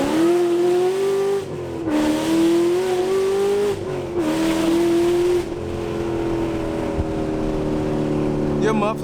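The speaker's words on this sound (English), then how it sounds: "Your muffler is so loud" A Chevrolet Camaro ZL1 1LE with a loud muffler exhaust, its engine roaring and revving in repeated pulls that rise and dip in pitch, heard close from inside the car with occasional voices underneath.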